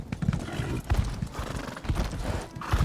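Horse hooves clip-clop steadily in a video game, with a brief whinny mixed in. The hoofbeats sound close and fairly loud over a busy game background.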